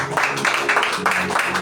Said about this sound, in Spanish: Vamos a rendir un fuerte aplauso a nuestro Dios.